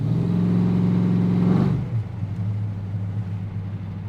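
An LS V8 engine holds a steady, loud rev, then the throttle is released and the note drops sharply into a lower, settling idle without stalling.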